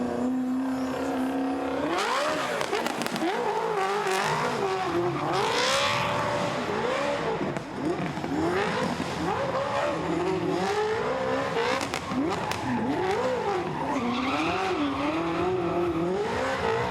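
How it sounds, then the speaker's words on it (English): An HKS Toyota Supra drifts at a Festival of Speed drift competition, its engine revving hard and wailing up and down in pitch over loud, continuous tire squeal. "Nobuteru Taniguchi in that HKS Toyota Supra"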